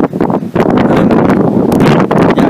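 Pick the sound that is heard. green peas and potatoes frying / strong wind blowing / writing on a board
strong wind blowing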